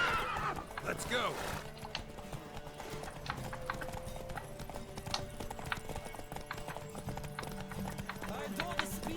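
Galloping horses in a Witcher 3 video game race, rapid close hoofbeats drumming throughout with a loud whinny near the start and game music underneath.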